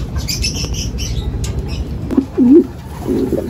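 Racing pigeons in a breeder's loft flap their wings in short bursts, and low cooing comes in near the end, close and fairly loud.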